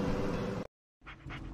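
Dog whimpering inside the Blair Witch horror video game, a loud dense burst that cuts to a second of silence, then returns with two short high whine-like cries over a low rumble.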